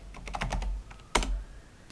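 Quiet clicking of a computer keyboard as a command is typed at a command prompt, a short run of keystrokes followed by a sharper single key press, close and alone.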